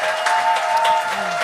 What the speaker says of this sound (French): Mais Éric Chiasson, on peut l'applaudir!